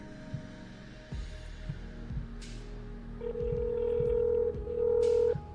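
A telephone call is placed for a phone-a-friend lifeline: a few soft clicks and dialing sounds, then a steady electronic ringback tone sounds twice in longer bursts, fairly clear with no talking over it.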